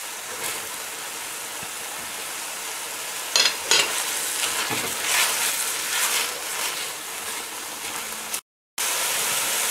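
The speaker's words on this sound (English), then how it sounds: "when that's sizzling away really well there" Ham sizzles and crackles steadily in a hot frying pan for fried rice, close and loud, with occasional scraping stirs and a brief cut near the end.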